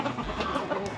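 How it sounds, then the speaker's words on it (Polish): A chicken clucks in short, close bursts over faint background noise, a brief run of low throaty calls. "to jest chyba kogut nawet, czy nie, czy kurka"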